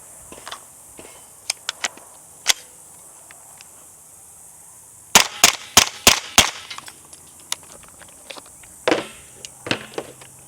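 Suppressed Scorpion pistol shots with 115-grain full metal jacket rounds: a tight burst of five loud, close pops in the middle, with scattered clicks and handling noises before and after.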